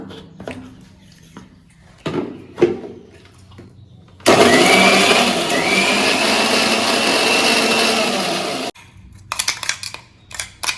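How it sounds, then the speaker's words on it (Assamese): A mixer grinder blending chopped onions runs for about four seconds as a loud, dense whir that starts and stops abruptly, with quieter kitchen clatter before and after. "পিঁয়াজখিনি মই মাৰি দিওঁ মিক্সিত অলপমান।"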